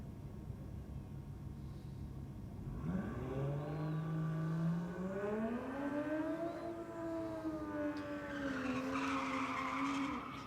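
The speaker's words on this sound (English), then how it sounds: "Another BMW. They're about to take on this Mitsubishi Lancer." At a drag race, a BMW faces a Mitsubishi Lancer: a loud engine climbs through its revs in a long rising wail over steady crowd and track noise, with one car's note sweeping upward and holding at a high pitch.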